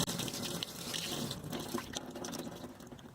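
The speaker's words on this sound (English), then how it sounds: "rinse for the final time, ensuring the rinse water flows from fingertips to elbow" Tap water runs steadily as arms are rinsed from fingertips to elbow during a surgical hand scrub at a sink, a continuous close splashing flow with no talking.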